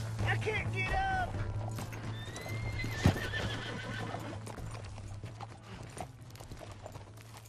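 A horse whinnies and its hooves clop steadily over background sounds of Red Dead Redemption 2, with voices talking throughout.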